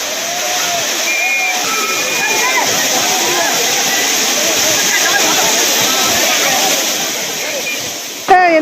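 Kutralam waterfall roars in a loud, continuous rush of falling water where crowds of tourists bathe, with faint voices and splashing blended into the steady torrent.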